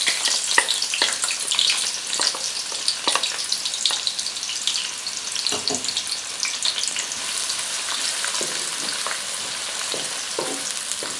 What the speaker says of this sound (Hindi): प्याज को इतना पकाएंगे, फ्राई करेंगे कि इसका कलर डार्क ब्राउन हो जाए